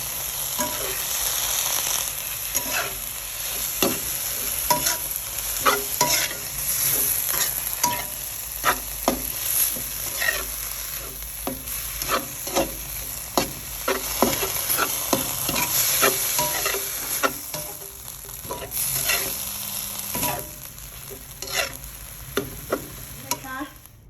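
Holy basil stir-fried over high heat with oyster sauce, dark soy sauce and fish sauce, a steady sizzle broken by frequent sharp scrapes and clacks of a spatula against the pan, close and continuous.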